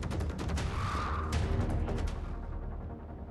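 Rapid bursts of gunfire from a hunter robot in the video game Generation Zero crackle in quick succession at moderate volume, fading out toward the end.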